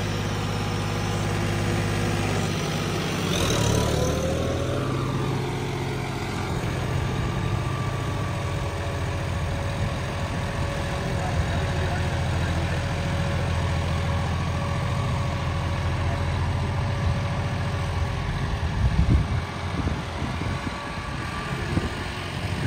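A John Deere 5210 tractor engine runs steadily at 2000 rpm, a loud continuous mechanical drone with a brief rising whine near the start.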